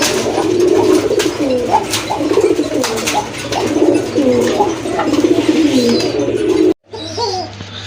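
A single fancy knot pigeon of the cocker type coos loudly and clearly at close range in repeated rolling calls, with other birds faintly chirping behind and a brief break near the end.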